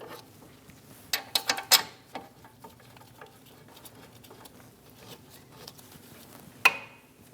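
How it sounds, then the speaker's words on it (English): A hand ratchet snugs down the brake caliper bracket bolts on a Chevrolet Malibu: a short cluster of close, sharp clicks, then scattered lighter ticks and one final crisp click. "Snug the bolts down."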